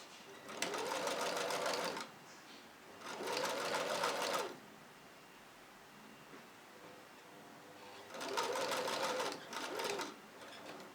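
A sewing machine stitching a fringe wig runs in three rapid, buzzing bursts of about two seconds each, separated by quiet pauses, loud and close.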